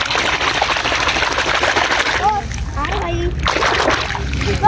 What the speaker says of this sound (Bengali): দেখো আমি কিন্তু ধুয়ে ধুয়ে এখানেই রাখছি